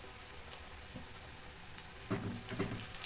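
Ginger garlic paste fries in a pan for chicken curry, giving a quiet continuous sizzle with a few brief stirring scrapes and louder bursts toward the end, with no talking.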